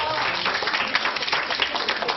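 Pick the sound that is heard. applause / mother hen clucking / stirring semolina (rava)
applause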